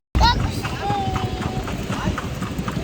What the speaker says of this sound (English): Having a quick ride in a horse.